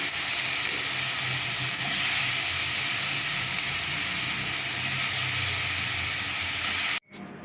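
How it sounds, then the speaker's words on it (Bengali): Bananas and dates frying in butter give a steady, bright sizzle with a faint low crackle underneath, loud and close, continuing without a break for about seven seconds before cutting off abruptly. "আমি আমার টোস্ট এবং খেজুর এবং কলাটা আমি বাটারে ভেজে নিয়েছি"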